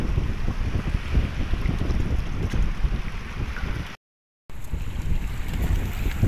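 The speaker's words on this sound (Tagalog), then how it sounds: "Hangin pa rin." Strong wind buffets the microphone on a fishing boat at sea off Pundaquit, San Antonio, Zambales, a loud, continuous rushing roar with low rumble and a short dropout near the end.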